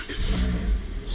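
A car engine cranks and catches with help from a GOOLOO GT4000 jump starter, revving briefly into a close, loud rumble that settles into a steady run.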